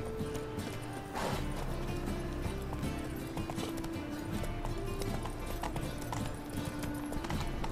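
Horse hooves gallop in a steady rapid clip-clop in The Witcher 3 video game, close and loud throughout, with a brief whinny and game background sounds layered underneath.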